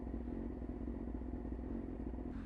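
A motorcycle rides along at a relaxed pace after a track day, its engine giving a steady, close, continuous drone with light clatter and no pauses.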